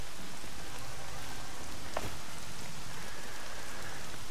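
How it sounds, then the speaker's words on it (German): Steady rain hiss from Horizon Zero Dawn fills the scene in an even, dense wash of falling drops that holds at constant loudness, with one brief sharp tick near the middle and no voices. "Regen ist gar nicht so übel."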